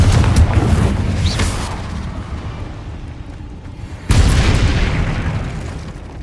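Two heavy fire-spell explosions go off in a Harry Potter video game, each a sudden loud boom that rolls into a long fading rumble, the second striking about four seconds after the first.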